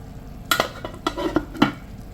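Pancit is stirred in a pan, giving a few quick close scrapes and clacks of a utensil against the metal in irregular bursts over a faint background.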